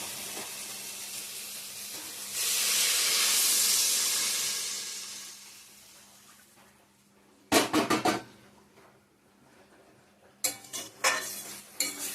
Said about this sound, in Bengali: ভালো করে কষানো হয়ে গেছে মশলার সঙ্গে এখন জল দিয়ে দেবো